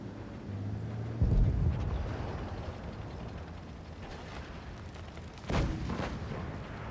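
Tank cannon shots in an online tank battle video game, two heavy booming blasts a few seconds apart with rumbling decay over engine and wind-like ambience.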